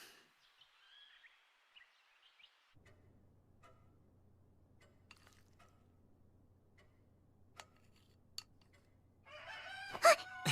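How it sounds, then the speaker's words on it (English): A rooster crows in the countryside near a village, a short burst of loud harmonic calls at the very end after a long, quiet stretch with faint ticks and a low steady hum. "That's a rooster."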